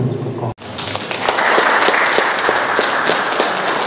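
An audience at a talk on women and art applauds the artists, a loud dense burst of clapping that starts abruptly after a brief lull and continues steadily.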